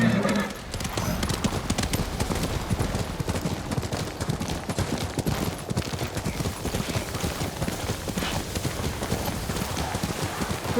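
Horse hooves gallop in a snowy Ghost of Tsushima game scene, a fast, steady clip-clop close by that runs throughout, mixed with a light wind-like wash and occasional sharp cracks.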